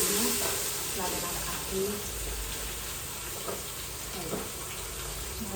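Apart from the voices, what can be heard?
cumin and onion sizzling while frying for pav bhaji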